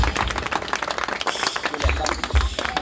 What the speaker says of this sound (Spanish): Fuerte sus aplausos, pues.